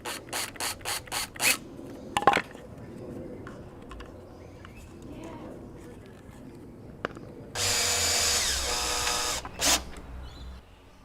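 A power tool drives small screws while assembling a cedar beehive's observation window cover, with a few short bursts early on, then a steady close whir lasting about two seconds, amid quiet handling clatter.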